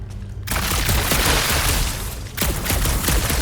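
Gunfire in Guardians of the Galaxy, a dense, loud burst of shots and impacts that starts abruptly after a quiet moment and runs on with a short break, no talking.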